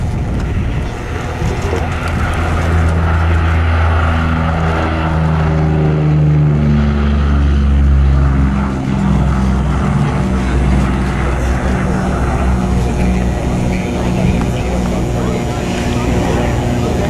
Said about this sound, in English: P-47D Dottie May taking off now.